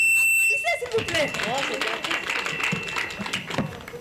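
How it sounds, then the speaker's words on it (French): Audience applause at a French-language school quiz show semi-final, a steady crowd clapping that rises after a brief electronic tone and continues loud and dense to the end. "Applaudissez s'il vous plaît"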